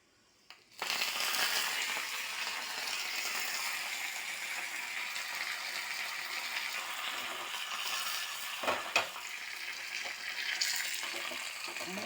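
Loud, steady sizzling and crackling of curry leaves frying in hot oil with mustard seeds, dried chillies and garlic, starting abruptly after a brief quiet moment and continuing throughout.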